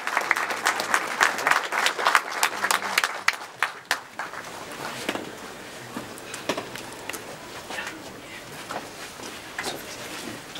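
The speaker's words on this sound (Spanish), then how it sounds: "Aplausos, por favor." Applause rings out at a silver anniversary blessing at Casa Tauquina, opening with sharp, close hand claps that settle into a steady, thinner patter of clapping from a small gathering over a low murmur.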